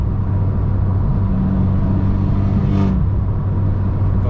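A Fiat 500 Abarth with a Stage 2 tune rumbles loudly and close, its engine idling with a deep steady drone and swelling briefly in a short rev before settling back.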